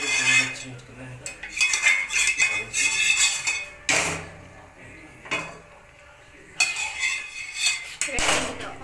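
A whole frying pan is handled in a home kitchen while oil is spread across it, giving irregular metallic clanks, scrapes and clinks in separate bursts with quiet gaps between them.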